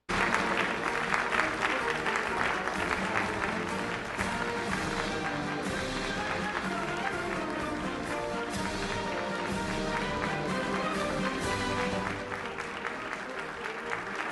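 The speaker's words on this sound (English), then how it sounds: "why are they still clapping?" Prolonged audience clapping at a political press conference as a speaker gets up to leave, a sustained, dense wash of applause that carries on for many seconds before easing slightly near the end.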